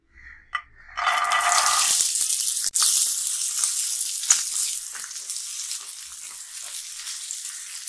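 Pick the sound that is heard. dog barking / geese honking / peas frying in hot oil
peas frying in hot oil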